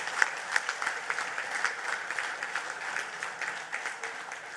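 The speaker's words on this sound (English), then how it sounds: "we want to give him a round of applause for having been an outstanding chairman" Audience at a PNM party gathering in Sangre Grande gives a round of applause for an outgoing chairman, steady mid-level clapping with a few sharper individual claps rising above the crowd.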